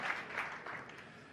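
A snooker crowd at the 2018 World Championship gives soft, fairly distant applause, a short polite patter that fades quickly.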